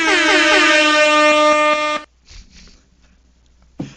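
A loud, sustained air horn sound effect blasts for about two seconds over a League of Legends esports broadcast, then cuts off, leaving faint background noise and a brief thump near the end.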